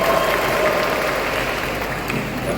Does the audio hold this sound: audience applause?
yes